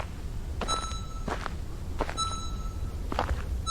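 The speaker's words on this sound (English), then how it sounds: "Oh no, that's just my footsteps." Footsteps in the game SCP Secret Files land in an even series of soft thuds, several steps spaced across a few seconds under faint tonal beeps and a low background rumble.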